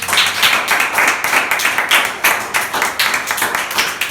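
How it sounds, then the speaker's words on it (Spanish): Church congregation applauding during a sermon, a loud, fairly rhythmic burst of many hands clapping close by, pulsing steadily for several seconds with no talk. "Dale un aplauso."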